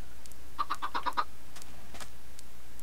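A chick in a video game gives a quick run of about six bright, evenly spaced peeps, then a few scattered softer chirps, close and fairly faint against a low background hum.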